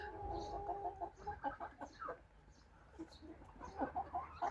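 Young winter chicks cluck and peep close by in a coop, with repeated soft chirps and clucks at an irregular rhythm.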